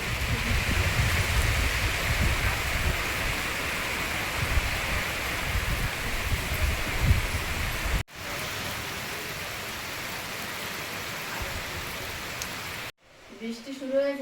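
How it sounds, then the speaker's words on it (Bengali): Heavy rain pours down steadily at a rural Bengali home beside a pond and vegetable garden, a dense, loud hiss that runs unbroken and then cuts away twice to quieter passages. "জোরে বৃষ্টি শুরু হয়েছে।"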